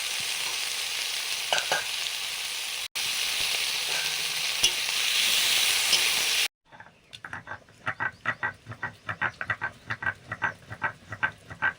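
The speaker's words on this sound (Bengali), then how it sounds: "তার থেকে করলাগুলো ভাজছি।" Bitter gourd fries in hot oil with a dense close sizzle for several seconds, then a run of rhythmic scraping strokes against the pan.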